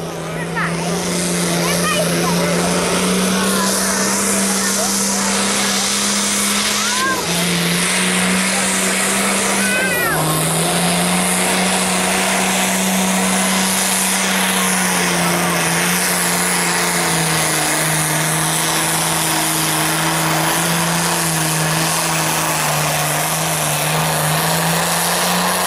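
Pulling tractor at the Great Dorset Steam Fair roars continuously at high revs, its engine note holding steady with slight pitch dips, loud and close under outdoor noise for the whole stretch.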